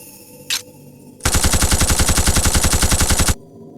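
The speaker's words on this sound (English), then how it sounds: "I call it the repeater arm cannon." Repeater arm cannon firing in the video game Blood Will Tell, a loud rapid burst of evenly spaced mechanical shots lasting about two seconds, preceded by a short faint click.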